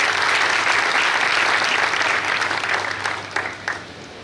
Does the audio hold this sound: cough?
no